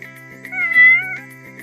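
A kitten gives one clear, drawn-out meow set over a sustained musical tone, loud and close, from a children's counting song.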